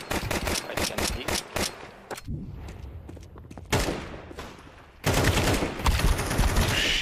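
Rapid bursts of automatic rifle fire in a Counter-Strike match on Dust 2, loud and close, with clustered volleys, a short lull, then heavy sustained shooting at the end.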